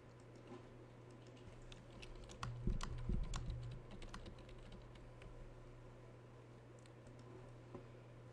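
Typing on a computer keyboard, a steady patter of faint, quiet key taps continuing throughout over a low background hum, with a few slightly heavier thumps midway.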